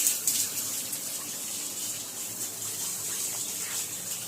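Water splashes and runs across a house floor being washed, a soft steady gush with a few brief splashes near the start, fairly quiet and without talk.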